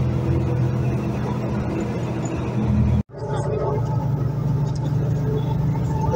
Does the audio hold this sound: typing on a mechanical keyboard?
no